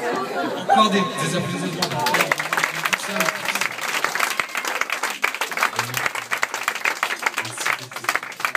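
Audience clapping at a hypnosis show in a café, a broad patter of many hands building after a brief opening and carrying on steadily, with voices and chatter mixed in.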